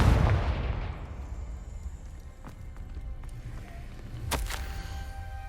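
A Confringo spell blasts in Hogwarts Legacy, a sharp explosive burst near the end, plus a fainter crack earlier, rising over a low rumbling game backdrop with no talk.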